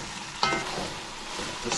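A wooden spoon stirs chicken thighs and jasmine rice with spinach in a hot pan, giving a steady close sizzle with a sharper scrape near the start and another toward the end, with no voices.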